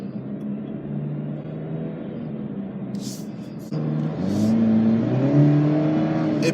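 A 2019 Chevrolet Camaro with a 2.0 turbo engine accelerates from inside the car, its engine note rising steadily and stepping up after a gear change, loud and continuous with no talk.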